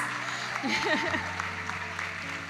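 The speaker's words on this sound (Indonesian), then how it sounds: "Sekali lagi kita beri tepuk tangan paling meriah untuk buku menembus garis batas" An audience at a biography book launch claps in a steady, moderately loud wash of applause, with a voice rising briefly over the clapping.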